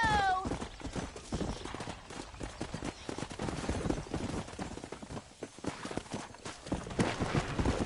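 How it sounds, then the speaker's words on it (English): Rapid hoofbeats of a galloping horse in Red Dead Redemption, rhythmic clip-clop over busy background game sounds, moderately loud and continuous. "Look at the mighty horse racer go."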